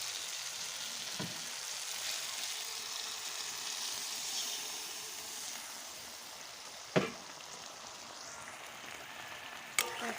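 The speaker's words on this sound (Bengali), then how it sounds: "আরেকটু জল দিয়ে আমি ভালো করে কষিয়ে নেব।" Gorai fish curry cooks in a pan with added water, giving a soft, steady bubbling sizzle at moderate distance, broken by two or three brief sharp knocks.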